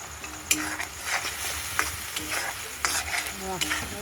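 Spiced masala and meat frying in a kadai, a continuous sizzle broken by repeated close scrapes and clinks of a stirring spoon against the pan, with no talking.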